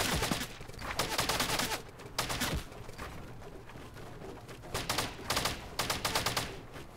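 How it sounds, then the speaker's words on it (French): Gunfire in the mobile battle royale game Fortnite Mobile: repeated clusters of rapid, crackling shots in bursts, fairly close, over steady background game noise. "On se fait tirer, les gars."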